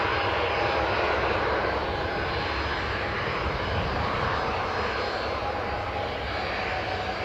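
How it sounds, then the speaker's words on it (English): An Air France airliner arriving from Paris at Newcastle Airport roars steadily overhead, a loud, continuous broadband engine rush with a faint whine, heard alone throughout. "And that's my favourite Air France hot livery. Incoming from Paris Charles de Gaulle."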